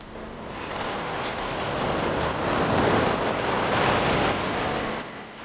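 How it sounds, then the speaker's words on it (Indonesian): Steady, broad roar of ocean surf breaking on an Indonesian beach at Buton Tengah, swelling and easing gently over several seconds, with no voices. "Puas menikmati deburan ombak,"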